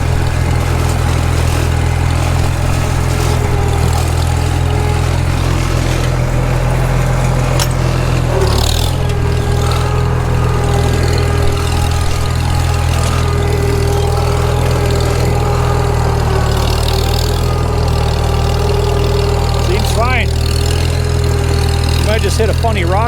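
Farmall Super M tractor pulling a Tumblebug scraper uphill through a cut in clean ground, a loud steady low engine drone throughout with a brief knock partway through and mechanical rattles near the end.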